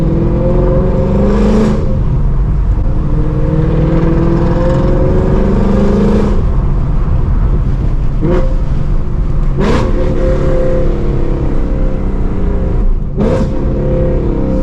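A Ford Mustang GT's V8 roars loudly from inside the cabin, its tone rising and falling through repeated revs, with sharp blips marking downshifts and no talking over it.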